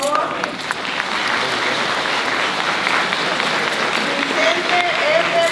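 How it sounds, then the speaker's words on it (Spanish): An outdoor audience at a Guadalupe torch run event applauds steadily throughout, a continuous wash of clapping with crowd murmur and faint voices mixed underneath. "Un aplauso, por favor."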